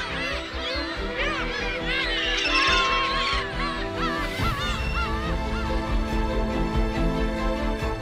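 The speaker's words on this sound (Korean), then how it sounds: "연습을 끝낸 어린 갈매기." Young gulls calling on the Gyeokryeolbiyeoldo islands, a loud chorus of overlapping honking, wavering cries close by, continuous over a bed of background music.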